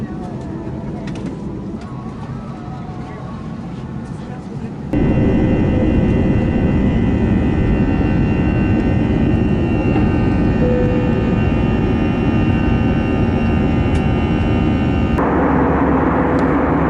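Loud, steady jet engine roar from an airliner, rising abruptly and holding as a sustained wash of noise with a high whine, then easing slightly toward the end; a quieter cabin murmur is heard before it begins.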